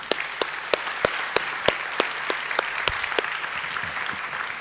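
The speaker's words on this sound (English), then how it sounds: "I just want to give him a round of applause for doing that." Audience applause at a talk, steady clapping throughout with a few louder individual claps standing out from the crowd.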